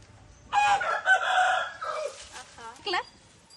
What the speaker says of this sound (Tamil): இங்கெல்லாம் கோழி ஜாலியாக சில்லுன்னு இருக்காங்க